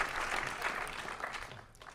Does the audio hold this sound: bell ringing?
no